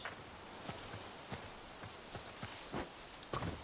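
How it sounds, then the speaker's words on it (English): Baby horse in the video game Hytale, its hooves clip-clopping in soft, irregular steps close by, with a few firmer thuds near the end. "Oh, a baby horse."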